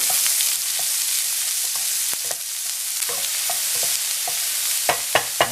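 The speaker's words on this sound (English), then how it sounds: "Add your aromatics. And that is your onion, ginger, and garlic mix." Onion, ginger and garlic fry in hot oil in a pan for fried rice, making a steady, close sizzle with scraping stirs and a few sharp clicks toward the end.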